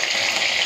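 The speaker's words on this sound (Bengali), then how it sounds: "এদিকে মাছ ভাজাটা বসিয়ে দিয়েছি" Fish frying in hot oil in a home kitchen gives a steady, close, bright sizzle that holds at an even level through a brief moment, with no voices.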